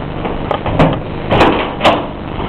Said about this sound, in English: open the door here